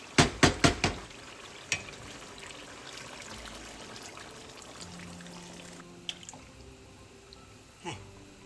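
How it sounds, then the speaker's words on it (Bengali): Hot water poured into a pot of braised beef tongue: a few sharp knocks, then a soft continuous pouring and trickling for several seconds, ending with scattered clinks and a brief splash. "এখন আমি এতে অ্যাড করে দিব গরম পানি"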